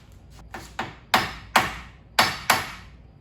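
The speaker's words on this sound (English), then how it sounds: "Tap this with the hammer first. Make sure it moves." Hammer strikes ring against a CV axle on a 1998 Toyota RAV4 during axle replacement, six sharp metallic taps in an uneven sequence, growing louder after the first two, close and with no talk over them.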